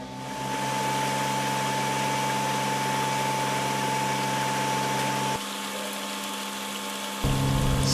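A blower machine at a river treatment site in Pekalongan runs steadily with a constant mechanical hum and a sustained tone, and its pitch and loudness shift abruptly twice near the end, with no talk.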